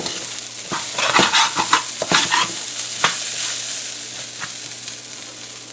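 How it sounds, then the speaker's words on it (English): Chicken fried rice sizzling in a hot pan while a utensil scrapes and stirs it, with a steady frying hiss punctuated by several sharp clattering strokes. "So this rice has been on here for about 2 minutes or so, and we kept stirring it"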